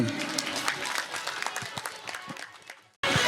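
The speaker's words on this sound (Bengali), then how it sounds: "সবাই হাততালি দিন" A crowd claps at a festival ceremony honoring jatra performers at the Radhamadhab Raas fair in Gobindapur, a brisk, close scatter of hands that thins out and fades to near silence before a sudden loud burst returns.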